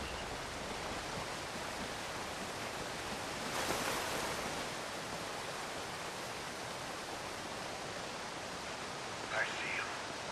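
Steady broadband rush of falling water from a waterfall in the video game Call of Duty: Ghosts, continuous and fairly loud throughout with a slight surge midway, no talking.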